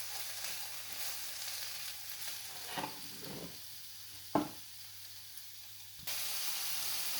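Meatballs and vegetables fry in a pan for a stir-fry with egg, a soft continuous sizzle broken by a few clattering stirs and one sharp knock, then a louder burst of hiss.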